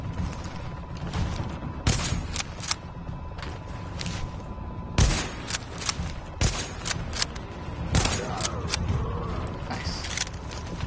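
Shotgun blasts in The Division ring out as several sharp, loud cracks spaced a few seconds apart, over a steady bed of game ambience and mechanical clatter.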